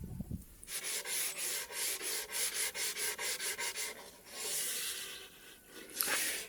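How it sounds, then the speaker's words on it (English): Light hand sanding of wood filler on the edges and top of an epoxy resin table top, a run of about a dozen quick, even rubbing strokes followed by a longer, slower scrub, close up with no talking. "I have wood filler on all of the edges and some on the top, and now I'm going to lightly sand it again."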